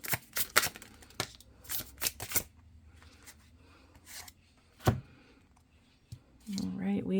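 Oracle cards from a large deck are shuffled in quick riffling bursts and flutters, close and fairly loud, with a voice speaking near the end.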